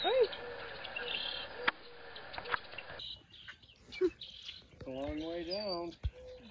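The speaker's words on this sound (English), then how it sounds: "I've never seen anything like this, where so many birds all in one place." Many birds calling together at El Rio Park campground on the Rio Grande Valley border, including green jays, cardinals, great kiskadees, chachalacas, red-winged blackbirds and hummingbirds: a busy, overlapping mix of chirps, whistles and harsh calls at varying distances, with a voice talking at times.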